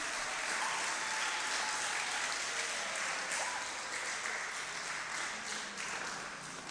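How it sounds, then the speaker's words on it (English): Steady applause from an audience at a preparatory school graduation ceremony, honouring the teacher, dense continuous clapping from a crowd throughout. "Give your teacher a round of applause."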